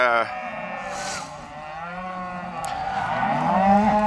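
Cows separated from their calves in a corral moo in long, harmonic bellows that overlap and rise in loudness toward the end, close by.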